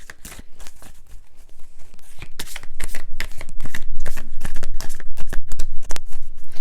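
Tarot cards are shuffled continuously and close up, a dense run of rapid papery riffles and flutters that builds louder over several seconds.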